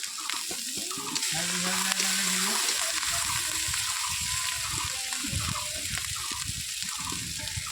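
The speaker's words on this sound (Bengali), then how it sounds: "থালাটা ধুয়ে জলটা দিচ্ছে" Water rinsed from a plate pours into a pan of prawns cooking in chilli powder and sesame paste, giving a steady close sizzle and splash that runs throughout, with a voice speaking briefly near the start.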